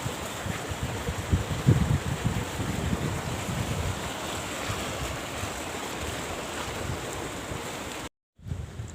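Water gushes from a tubewell motor pump into a paddy field being flooded for puddling, a steady loud rushing roar that continues with little change before briefly cutting out near the end.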